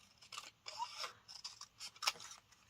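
Scissors cut and trim paper for craft clusters, a few quiet close snips and short scraping cuts in uneven bursts.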